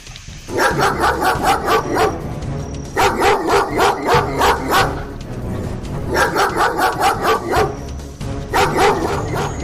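A dog barking outdoors in the wild, mistaken for a wolf, loud and close, in two rapid bursts of repeated barks separated by a short pause.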